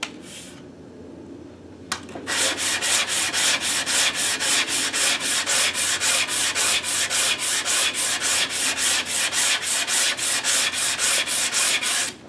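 A wooden coffee table top is hand-sanded with 120 grit sandpaper to find high spots, giving a regular series of close, rasping back-and-forth strokes after a brief quiet start, with no talking.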